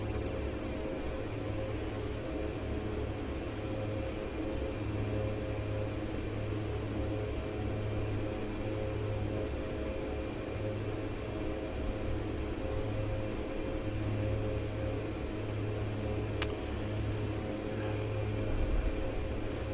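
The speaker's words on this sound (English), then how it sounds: "DHC 6 Twin Otter." Steady cabin drone of a De Havilland DHC-6 Twin Otter twin-turboprop in flight, a continuous loud engine and propeller hum with a low pulsing beat that holds unchanged throughout.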